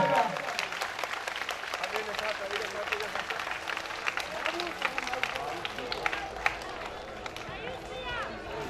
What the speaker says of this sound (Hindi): कितने माता है, सभी लोग ताली बजाइएगा।